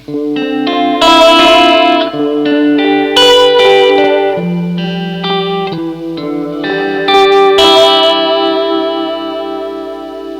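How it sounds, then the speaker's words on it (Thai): A thick electric guitar through a combined Super Chorus and Super Boost amp effect pedal plays chords and picked notes with loud, full tone, bright attacks and lingering reverb throughout. "เมื่อเราเปิดขึ้นมาเสียงกีตาร์จะหนาขึ้นอีก"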